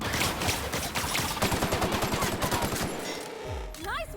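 Rapid automatic gunfire in The Outer Worlds video game, dense bursts of shots pounding steadily before cutting off, followed by a brief sweeping electronic effect, loud and close.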